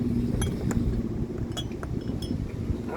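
Glasses clink lightly a few times during a champagne boat renaming ceremony outdoors, with steady wind noise and a low hum underneath.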